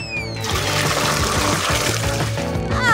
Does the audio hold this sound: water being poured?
yes